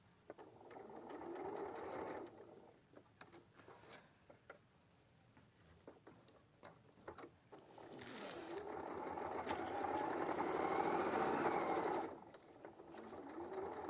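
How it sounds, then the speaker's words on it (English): A sewing machine sews a top stitch at a longer stitch length in two bursts, an early short run and a longer steady whirring run later, close and clear with quiet handling sounds between. "I've changed my top stitch length to a 3 as well"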